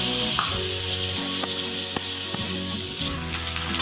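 Dried fish fries in hot oil for a chutney, giving a continuous close sizzle with a few faint clicks of stirring.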